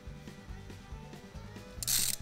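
An eye bolt is screwed tight into the cap of a fishing jug line, giving a close run of rhythmic creaking, ratchet-like clicks of turning threads, ending in a short, louder scraping rustle.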